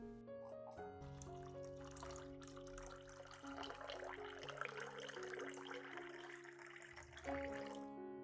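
Clean water trickles and pours into a lemon solution, a soft continuous liquid flow beneath sustained background music, faint and fairly close.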